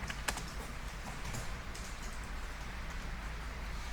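Soft, quick keystrokes on a computer keyboard while coding, a quiet steady patter of key taps with a few sharper clicks, close and faint over low room hum.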